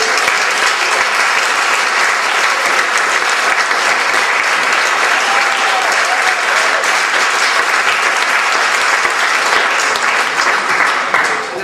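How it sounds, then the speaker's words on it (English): Loud, sustained audience applause after a stage performance, dense clapping that stays at a constant level for several seconds with no talk over it. "I think we should give them a big round of applause."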